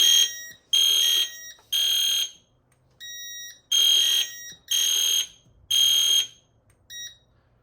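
An EST Fire Shield fire alarm panel sounds in alarm with loud, piercing electronic tone bursts. There are about seven sustained pulses, each roughly half a second long, separated by short gaps. No one speaks over it.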